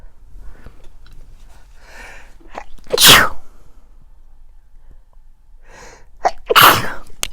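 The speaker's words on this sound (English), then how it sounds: "I think I have to sneeze" Two loud sneezes, each preceded by a few sharp breathy inhales, ring out in an otherwise quiet room, several seconds apart.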